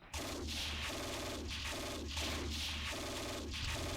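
Machine gun fire in the wargame Steel Panthers rattles in four evenly spaced bursts about a second apart, steady and moderately loud over a constant low hum.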